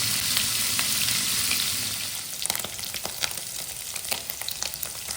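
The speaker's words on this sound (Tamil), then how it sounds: "எண்ணெயில் போட்டு கொஞ்சம் லைட்டாக செவத்தா பொன்னிறமாக பொரிச்சு எடுத்துக்கலாம்" Paneer cubes fry in hot oil with a steady, close sizzle and bubbling, broken by brief sharper crackles and pops as the pieces are stirred, with no voices over it.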